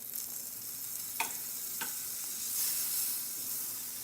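Butter sizzles and hisses steadily in a hot pan kept for cornbread, with a couple of sharp clicks and a brief swell of frying noise near the end.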